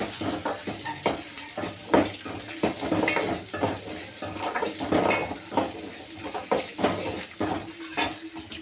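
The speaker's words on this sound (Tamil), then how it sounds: "வெங்காயத்தை மிக்ஸ் பண்ணி நம்ம வதக்கிக்குவோம்" Onions are stirred and sautéed in a pan for a Tamil potato gravy, giving a continuous sizzle with repeated scraping and stirring strokes close by.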